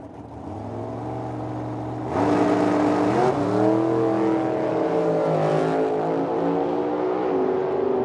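Drag racing cars launch and accelerate hard down the strip, a loud rising engine roar that jumps in intensity around two seconds and climbs in pitch as they pull away.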